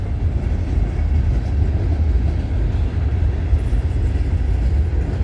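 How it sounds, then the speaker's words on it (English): A long CN freight train of about 660 axles with box cars rumbles steadily past at close range, a continuous loud roar of wheels and rail noise with faint rhythmic clatter and no voices. "Since this train has 660 axles, this train's a big train."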